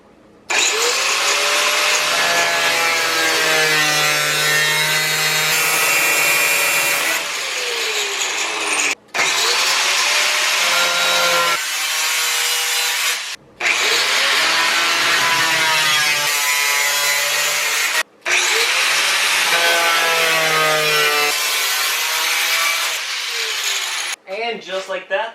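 A power tool saws through the outer panel of a Mazda Miata hood to make louvers, loud harsh cutting in four long bursts separated by brief pauses, with a shifting whine as the blade works through the metal.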